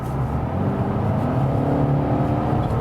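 A steady engine drone from an Infiniti Q60 2.0t coupe accelerating in sport mode from 80 to 100, heard from inside the car as a low, even rumble without talk.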